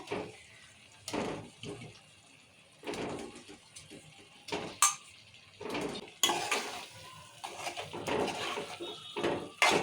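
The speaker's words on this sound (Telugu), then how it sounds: "ఇప్పుడు టమాటాలు వేసుకుందాం ఇలా" Tomatoes tipped into hot oil in a pan for a masala curry, heard as a string of close clattering pan and utensil knocks with a soft sizzling bed between them and no speech.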